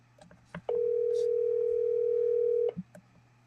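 Telephone call tone from a phone at Walt Disney World, a single steady electronic beep held for about two seconds, loud and clear, with quiet background before and after.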